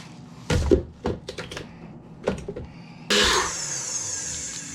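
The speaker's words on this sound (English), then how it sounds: "I'm going to put those in a blender really quick" Whole black peppercorns are prepared with a few sharp knocks and clatters, then a small blender starts up abruptly with a loud, steady whirring grind that runs to the end.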